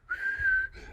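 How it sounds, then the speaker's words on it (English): A person whistles one sustained, steady note for most of a second, then starts a second shorter note; the whistle is close, clear and unaccompanied, with no talking. "I just love whistling because I'm so good at it."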